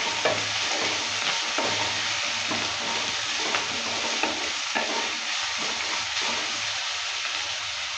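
Chopped onion and garlic sizzle loudly in a pan, stirred continuously with repeated scraping strokes over a dense, steady frying hiss.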